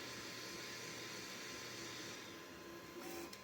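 A BambuLab A1 mini 3D printer's cooling fan blowing at 90% while printing nylon, giving a steady, even whoosh throughout with no pauses or talk.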